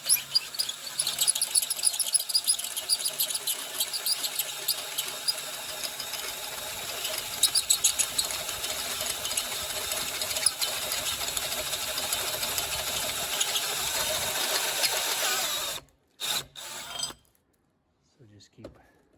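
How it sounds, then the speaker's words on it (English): A step drill grinds steadily through thick steel plate with a high, gritty whine for about fifteen seconds, then cuts off, leaving brief bursts and quiet. "It's pretty thick plate and it's steel, so I'm using this step drill"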